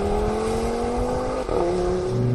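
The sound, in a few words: Audi RS3 exhaust pop and crackle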